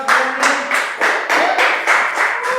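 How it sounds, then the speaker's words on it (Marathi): A small group claps in short, regular bursts, several quick rounds of hand claps close by and fairly loud, with no talking over them. "उचलला तरी टाळ्या वाजवा"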